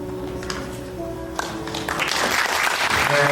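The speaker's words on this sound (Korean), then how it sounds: "우리 아버님 다시 한번 큰 박수를 전해주시면 감사하겠습니다" Wedding guests in a convention grand ballroom break into sustained applause, the clapping swelling and growing louder toward the end over a faint steady background tone.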